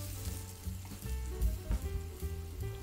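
Onion with a little ginger and garlic frying in a pan, a soft, steady sizzle with small crackles, close by and fairly quiet, with no voices.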